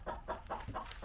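Backyard chickens clucking in a quick series of short, close calls, about five soft bursts in a row with no talking.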